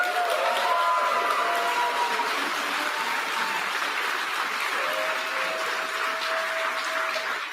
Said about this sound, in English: give a big round of applause to my bosses, the kids and the teachers of the St. Albans Boys and Girls Club